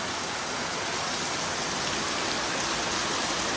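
Heavy rain pours down steadily in hilly country, a dense, even roar of drops with no breaks and no voices.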